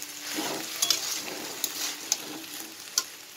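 Banana stem curry cooking in a pan on a home stove, giving a soft, fairly faint sizzle and bubbling with a few sharp utensil clinks spaced through it.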